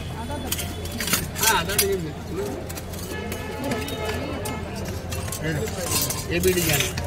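Steel spoons and kitchen utensils clink and jangle at a busy steel-utensil market stall in Mumbai, with light metallic rattles repeating under steady crowd chatter and voices talking nearby.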